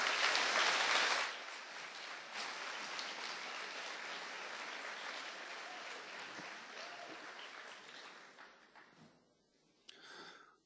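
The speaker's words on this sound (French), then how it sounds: "Je vous demande simplement d'applaudir." Audience applause for a lecturer at an inaugural lecture, a loud burst at first that settles into steady, sustained clapping for several seconds before dying away, with a voice beginning to speak at the very end.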